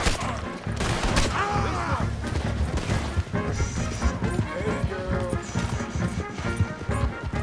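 Gunfire in Red Dead Redemption 2 breaks out in loud, rapid volleys of shots mixed with pounding horse hooves and crashes, dense and continuous throughout, with faint voices in the mix.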